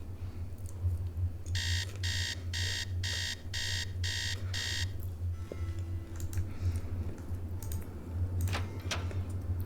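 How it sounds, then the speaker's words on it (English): A repeating alarm from a Nancy Drew video game, Treasure in the Royal Tower, rings in a series of regular bursts for a few seconds over a steady low background hum, then stops. "It's the same alarm in every single game."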